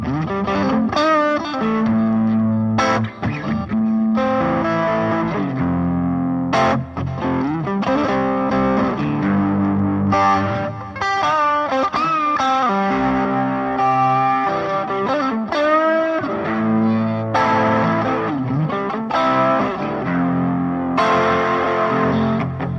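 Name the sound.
Boss SD1 Super Overdrive pedal through Roland JC-22 amp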